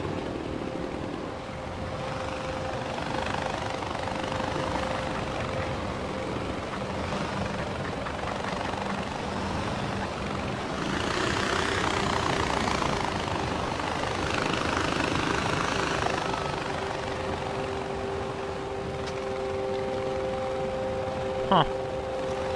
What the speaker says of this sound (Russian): Я тебя сейчас вертолетом собью.